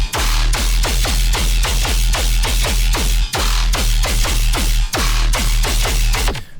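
Distorted tearout bass from Serum 2, narrowed with an imager and squashed by OTT compression, pounds out a continuous run of loud, gritty, rhythmic hits over a heavy sub for several seconds, with brief dips between phrases.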